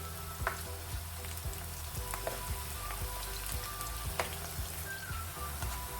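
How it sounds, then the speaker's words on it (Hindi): Chopped onions fry in a pan for a liver masala curry, a faint, steady sizzle with scattered small pops and crackles, heard alone without talking. "प्याज को हम ब्राउन कर लेंगे"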